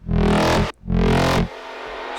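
A bright synth plays two sustained phrases, the second trailing off into a wide, lingering reverb throw effect wash that fades slowly.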